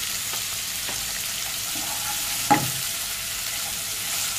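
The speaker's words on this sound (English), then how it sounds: "now we'll add a ginger garlic paste so one spoon ginger garlic paste" Ginger garlic paste fries in a pan with browning onions for a Hyderabadi chicken dish, producing an even close sizzle with faint stirring scrapes and one sharp utensil knock midway.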